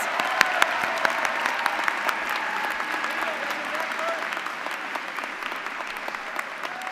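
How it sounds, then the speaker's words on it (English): An audience at a university student recognition ceremony applauds steadily, a dense patter of many hands clapping at an even level for several seconds. "Please join me in a round of applause for our 2022 Order of Troy recipients."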